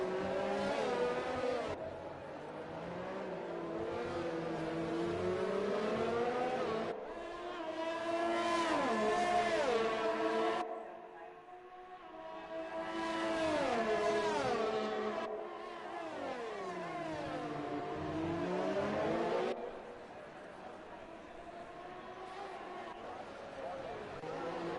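Race cars in a sim racing league game on the Azerbaijan circuit, engines rising and falling through gear changes and passes, loud rising whines with shifts and brief lulls, heard under continuous commentary.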